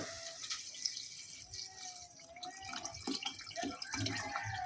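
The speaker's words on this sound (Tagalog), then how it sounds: "Lagyan na ito ng sabaw." Broth pours into a cooking pot on an outdoor cookout, a soft continuous liquid splash and trickle, fairly faint, with a few drips and light clinks.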